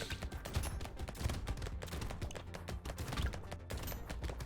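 Six SMGs fire nonstop in the video game Brotato, a dense, rapid rattle of small shots rolling on without pause, fairly loud and close throughout.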